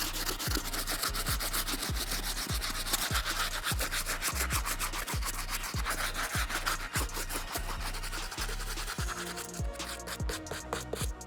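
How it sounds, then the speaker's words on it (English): A stiff bristle brush scrubs the toe cap of a Converse shoe in steady, rapid back-and-forth strokes, close and loud, a continuous rhythmic scratching with no voices. "our stiff bristle brush is safe enough to use on that toe cap"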